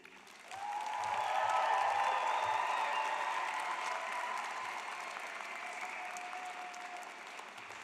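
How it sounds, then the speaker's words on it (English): Graduates at a university commencement ceremony clap for their families and friends, a broad, fairly distant wave of applause that swells quickly and then slowly tapers off. "Please, let's hear you clap and feel your gratitude."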